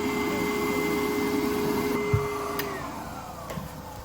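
A Wolf Foredom sandblaster runs with a steady whirring, hissing drone of air and abrasive as it blasts to clear its nozzle, loud and continuous with a couple of brief knocks and no talk.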